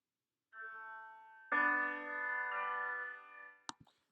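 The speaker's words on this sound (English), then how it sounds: "we see that this creates the 2-3 suspension." Sustained keyboard chords forming a 2-3 suspension: one held note joined by a louder chord that shifts to another, then stops, followed by a couple of soft clicks.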